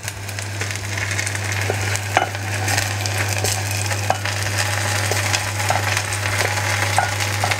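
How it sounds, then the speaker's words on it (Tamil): Hot tempering poured into a pot of blended fish curry, giving a steady, loud, close sizzle with a faint hum and small crackles throughout, no voices. "இதை அப்படியே தாளித்து மீன் குழம்புக்கு ஊற்ற போகிறேன்."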